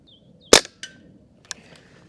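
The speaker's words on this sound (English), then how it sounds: "The shots lose a bit of power as the rifle gets colder." Barra 1866 CO2 cowboy air rifle fires one sharp, loud crack, followed by two quieter snapping shots or impacts, with faint outdoor birdsong in between.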